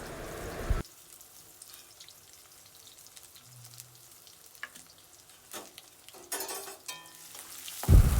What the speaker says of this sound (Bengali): এবার আমরা পেঁয়াজটাকে লাল লাল করে ভেজে নেব।